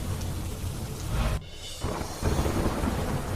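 Monsoon rain with thunder over Modasa in Gujarat's Aravalli district: a loud, deep rumble of thunder over steady rainfall, with a sudden brief dip before the heavy roar returns.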